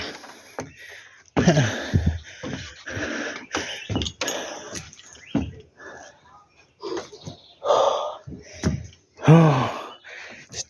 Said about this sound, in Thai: โอ้ยหอบแล้วพี่น้องเอ้ย